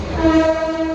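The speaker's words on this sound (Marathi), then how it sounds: "इथे आता ट्रेन चालतो थोडा आवाज कमी येते" A Mumbai local train runs near Goregaon, its horn blaring as two sustained tones over the steady rumble and rattle of the cars, loud and close; a voice speaks briefly over it.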